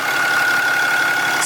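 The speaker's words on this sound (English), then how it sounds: "Engine's purring nice and quiet." A Cummins 4th gen diesel dually pickup engine idles in a steady, even drone, loud and close, with no talk over it.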